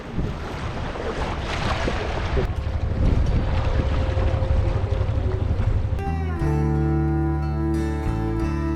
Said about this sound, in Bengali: আমাদের স্পিডবোটটি ছেড়ে দিল খুবই দ্রুত গতিতে যাচ্ছে